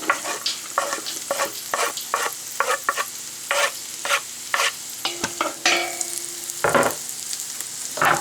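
Garlic sizzles loudly while frying in a pot over modest heat, broken by repeated stirring scrapes in an irregular rhythm, close and clear with no talking.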